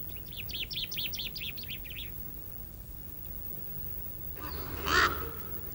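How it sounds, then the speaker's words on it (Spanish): A common chaffinch of the La Palma race in a pine forest on the Canary Islands gives a short, fast, repeated chirping phrase, fairly faint, followed a few seconds later by a louder, harsher call against quiet background hiss. "Entre los pájaros destaca el pinzón vulgar, del que vive una raza en La Palma con bellas tonalidades azules en su dorso."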